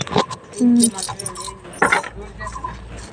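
Keys jingle as a bunch is handed from one person to another, a short metallic rattle close by with people talking around it.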